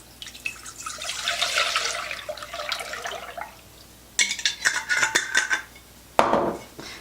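One litre of milk poured into a cooking pot for pumpkin rice pudding, a steady splashing liquid pour for a few seconds, followed by bursts of clinking metal and pot handling.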